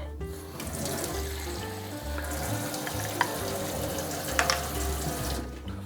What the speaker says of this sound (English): So for the half a cup of rice, we put 1 cup of water.